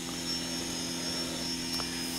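A tape drive motor runs at speed with no load, a steady whirring drone with a faint high whine, close and continuous, without talk.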